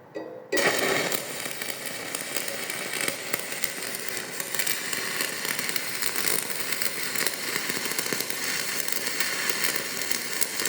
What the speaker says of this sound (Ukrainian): Зварювання проводимо від кромки на відстані 10 мм і рухаємося вздовж заготовки, виконуючи поперечно коливальні рухи